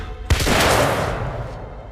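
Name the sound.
gunshot in The Order 1886 video game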